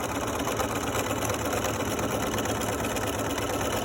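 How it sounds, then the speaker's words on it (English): Sewing machine stitching a French seam sample, a steady rapid mechanical whirr with dense even needle clatter, close and loud, running continuously without pause. "drop the needle, back stitch, couple stitches, lock it, and off you go"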